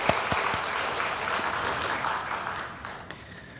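A church congregation applauding the choir and a young soloist during an online Sunday service, a sustained burst of clapping that gradually thins out, with no clear talk.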